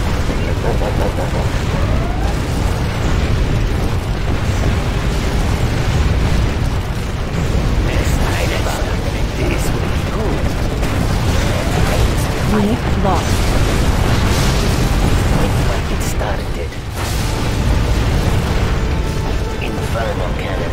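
Inferno cannon shells bursting in repeated booms and fiery blasts during a hard-difficulty China campaign battle in C&C Generals Zero Hour, dense and continuous beneath game music and voice lines.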